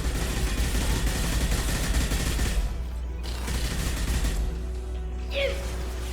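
Gunfire in the video game Mass Effect 2, with dense, loud automatic bursts and a sustained fusillade that briefly drops, then resumes over a low rumbling battle bed, and no talk.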